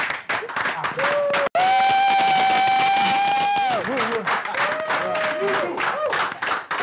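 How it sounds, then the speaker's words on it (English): An audience claps at a company's 17th-anniversary launch event, a dense patter of applause running the whole time while a sustained tonal voice or music rises over it in the middle, with brief talk around the edges. "Let's all welcome with a wonderful round of applause, Dr. Stephen."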